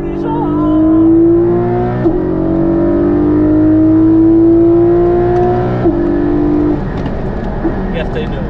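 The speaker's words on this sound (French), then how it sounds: "Donc ça, c'est les vraies caisses de course." Porsche 911 GT3 Cup race car at the Le Mans circuit, engine droning loud and close in a steady high pitch with gear-shift breaks, people talking over it.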